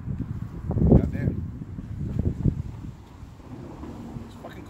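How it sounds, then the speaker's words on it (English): Wind rumbles and buffets against the microphone outdoors, with someone talking over the gusty noise. "I knew it was gonna be windy out, so I brought the windbreaker"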